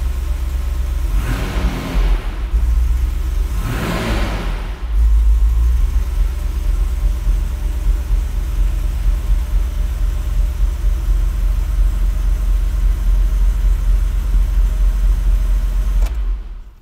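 A 1971 Mercedes-Benz 280 SE cranks over twice with a starter whir, fires on a cold start with no throttle, and settles into a loud, steady, rumbling idle close by.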